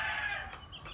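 Farm hens cluck in a brief, close burst of fowl calls with no talking.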